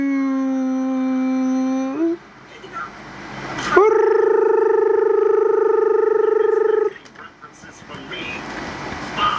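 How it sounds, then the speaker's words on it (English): A dog howls in two long, loud, sustained wails close by, with a short break between them and rough background noise and voices around them. "See that dog you was talking about?"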